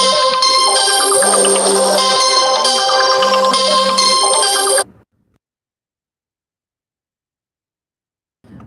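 A phone ringtone for an incoming call plays loud and close, a bright repeating melodic pattern for about five seconds, then cuts off abruptly into silence.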